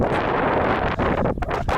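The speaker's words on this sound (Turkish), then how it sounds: "Size şimdi rüzgar sesi geliyordur bolca." Strong wind buffets the microphone in a steady, rumbling roar with brief gusty dips, loud and close, with no voices.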